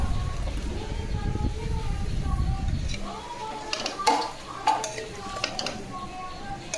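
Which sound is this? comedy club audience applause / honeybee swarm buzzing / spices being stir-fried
spices being stir-fried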